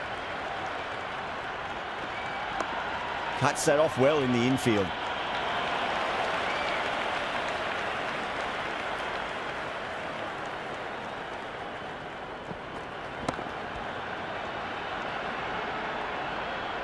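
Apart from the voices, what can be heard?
cricket stadium crowd applauding in video game Cricket 26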